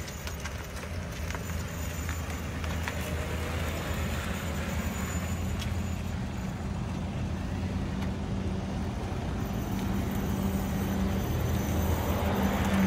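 A 2005 Nissan Maxima backing up in reverse, a steady low engine hum and road rumble close by, even in level from start to finish with no talking.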